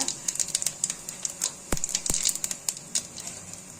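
Fennel seeds splutter and pop in hot oil in a kadai for mutton keema, making a rapid irregular crackle of sharp close pops with a couple of louder snaps in the middle.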